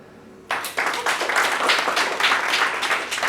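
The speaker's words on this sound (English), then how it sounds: "can you give yourself a clap for you to come here today?" Audience applause at a busking audition boot camp in Singapore, starting abruptly after a quiet moment and swelling into steady, dense clapping from a small crowd.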